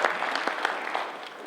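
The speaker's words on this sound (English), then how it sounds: "Give a big round of applause to her." Audience applause at a Diwali celebration held by the American Hindu Coalition, steady clapping from a crowd filling the short stretch at an even level with no voices over it.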